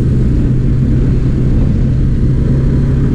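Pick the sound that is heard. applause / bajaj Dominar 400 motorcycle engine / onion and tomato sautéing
bajaj Dominar 400 motorcycle engine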